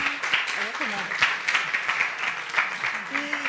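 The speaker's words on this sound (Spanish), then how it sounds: "Regálenos, por favor, un aplauso" An audience claps together in sustained applause while a person speaks over it.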